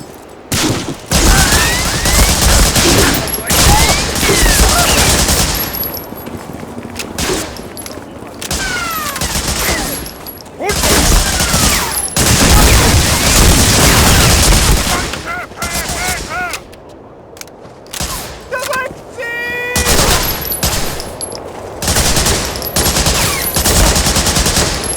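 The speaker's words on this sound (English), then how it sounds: "Anti-aircraft gun." Anti-aircraft gun firing in the World War II shooter game Medal of Honor: Frontline, long loud bursts of rapid automatic fire with heavy booms, nearly continuous with brief pauses and shouted voices in between.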